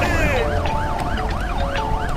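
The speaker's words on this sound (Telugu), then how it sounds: "అంబులెన్స్ వస్తోంది" An ambulance siren wails in a fast, repeating up-and-down cycle, loud and continuous over a low rumble of road noise.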